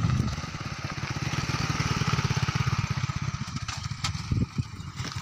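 A motorcycle engine runs steadily at close range, its rapid chugging pulses continuing for several seconds before becoming more uneven with a few knocks near the end, on a rough road near Daran beach in Balochistan.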